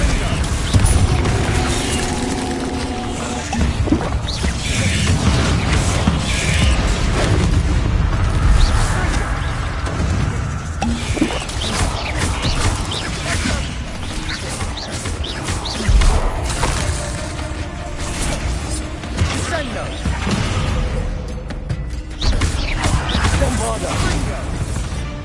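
Bombarda explosion spell blasting a room in a Harry Potter video game, loud booming crashes and shattering debris running throughout, with voices and spell shouts mixed in.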